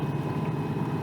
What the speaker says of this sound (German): Wie man hört, wir sind immer noch unter Motor.